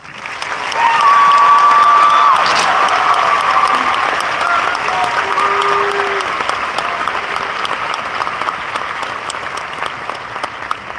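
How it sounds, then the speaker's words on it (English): A graduation audience at Radford High School breaks into loud, sustained applause welcoming the senior class advisor, rising quickly after a second and holding as a dense crowd roar before slowly thinning out. "Please join me in the round of applause as we welcome our senior class advisor, Mrs. Janine Arisu"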